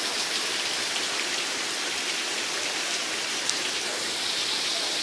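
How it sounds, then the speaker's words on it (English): Steady summer rain falls outside in July, with a dense, constant hiss of drops on surfaces that holds even throughout, with no voices. "this is my first time uploading a raining video"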